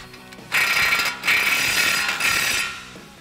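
A ratchet tightens a tie rod end on a 2021-2022 Ford Bronco during a 2-inch suspension lift install, giving three bursts of rapid close clicking separated by brief pauses, with no talk.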